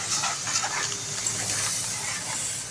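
Gram flour stirred into onions frying in hot oil, a dense continuous sizzle and hiss with soft scraping underneath, close and steady throughout, no voices.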